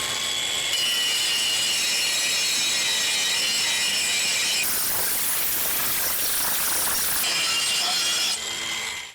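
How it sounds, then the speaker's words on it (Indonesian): Dongcheng DCSM08-100 cordless angle grinder fitted with a Dongcheng grinding disc, cutting into metal with a steady, loud, high-pitched grinding hiss that shifts in tone partway through before easing off at the end. "Coba untuk menggerinda"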